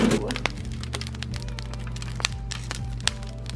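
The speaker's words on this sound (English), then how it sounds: "So now we're gonna pull it out and put the tomatoes on." Tomatoes go onto a pan preheated in a hot oven, giving a quick series of sharp crackles, clicks and light clunks over a low background hum.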